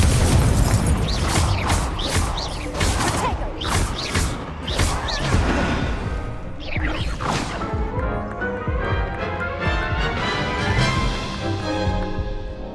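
Rapid Confringo and Incendio spell blasts in Hogwarts Legacy combat, a dense run of loud crashing bursts and booms over a rumbling game score, easing into ringing musical tones and scattered impacts.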